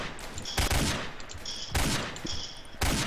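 Loud bursts of gunfire in a first-person shooter video game, with three rapid volleys spaced roughly a second apart and a faint hum between them.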